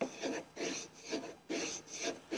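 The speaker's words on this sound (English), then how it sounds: "using the sanding block allows us to kinda work those spaces" Hand sanding on wood with a sanding block, a rhythmic back-and-forth rasping with six or so even strokes, close and clear with no talking.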